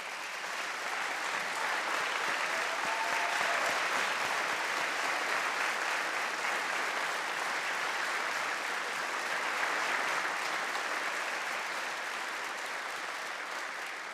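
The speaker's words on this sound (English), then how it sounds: "I ask you to give her a big round of applause" A large audience applauds steadily at a state address in a legislative chamber, the clapping dense, loud and sustained for the whole stretch without a break.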